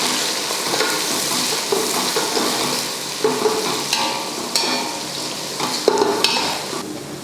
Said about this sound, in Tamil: பொரிஞ்சதுமே வெங்காயம் சேர்த்துக்கலாம்.